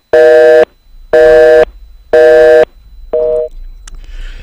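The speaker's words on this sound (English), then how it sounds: "I think maybe your phone cut out" A telephone busy signal after a radio call-in line cuts out: three loud, steady tone bursts evenly spaced, then a shorter fourth tone and faint noise.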